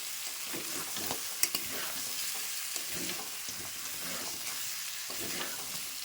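Rithe fish and potatoes frying with spices in a pan, with a constant close sizzle and soft stirring scrapes running under it.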